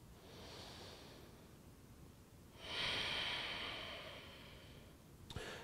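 Slow breathing during a shoulder stretch in a home workout, two long soft breaths, a quiet inhale and a fuller exhale, close and alone with no talk.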